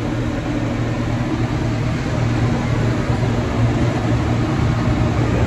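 Engine of a farm wood splitter running at high revs, a loud, steady mechanical drone with a low rumble that holds throughout, close to the machine and without talk.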